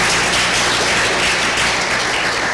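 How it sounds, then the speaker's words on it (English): Audience applause fills a conference hall, a steady, dense wash of clapping from many hands that holds evenly from start to finish with no voices above it. "But you can applaud them if you like too."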